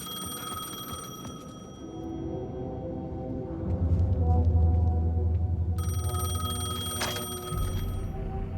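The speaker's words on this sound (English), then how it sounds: "payphone was ringing." A payphone rings repeatedly in the video game Alan Wake 2, steady bell-like tones over a low droning ambient hum, with a louder rumbling swell midway and no talking.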